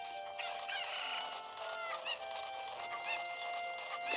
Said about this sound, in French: C'est des poules mais dans le jeu ils appellent les cocottes.